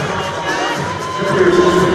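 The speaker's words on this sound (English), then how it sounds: "the crowd loudness that they're able to get going here at the Meridian Center" A home basketball crowd at the Meridian Center roars and cheers loudly and continuously, the noise swelling near the end, with shouting voices mixed into the din.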